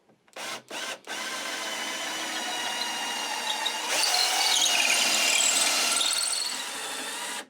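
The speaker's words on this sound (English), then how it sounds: "we're just going to drill a hole straight through to allow our wires to have access" A power drill whines after a few short bursts, then bores steadily for several seconds, the pitch rising as the bit works through a wooden guitar body for wiring.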